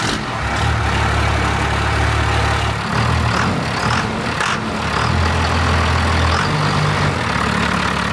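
A 33-year-old diesel pickup truck engine, with its injection timing advanced by 10 degrees, idles loud and close with a steady low rumble and slight shifts in pitch.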